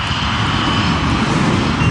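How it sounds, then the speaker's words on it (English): The engines of an Avianca airliner roar at high power as the plane pulls up during a missed approach, a loud, steady, close rumbling drone with a faint whine and no talking. "The operation of pulling the plane up in the missed approach was a very violent one."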